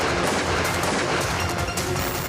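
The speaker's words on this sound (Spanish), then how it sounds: "saca un arma de fuego y realiza disparos en contra del portón de este centro deportivo" Gunshots fired by a gunman at the gate of a sports center, heard as a loud, harsh burst of reports in a noisy, distorted recording.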